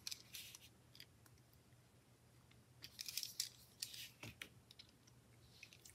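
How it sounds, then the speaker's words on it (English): Scissors trimming excess paper in a planner, several quick, crisp snips in small clusters, faint and close with a quiet background. "And just trim that extra off."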